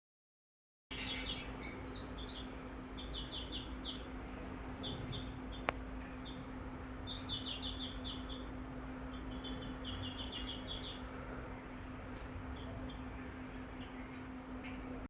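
House sparrows chirping indoors while looking for a nesting spot, with bursts of short, bright chirps coming and going over a steady low hum and faint background noise.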